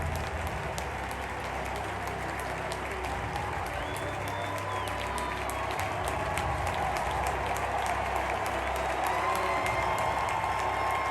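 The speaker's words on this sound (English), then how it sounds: "drew roars from the crowd when he emerged from the Phillies dugout to throw out the ceremonial first" A ballpark crowd at Phillies opening day applauds and roars, dense sustained clapping and cheering from many people spread across the stadium, steady and loud throughout.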